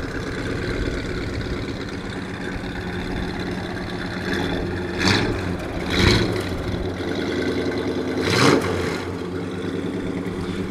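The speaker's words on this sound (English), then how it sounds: "Let you hear that exhaust." A 1964 Ford Galaxie 500XL rumbles at a steady idle through its exhaust, with three short blips of the throttle rising and falling near the middle and end.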